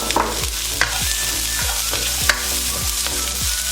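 A medium white onion, chopped, fries in a pan with a constant close sizzle, while a spoon scrapes and stirs at a regular pace with occasional clinks against the pan.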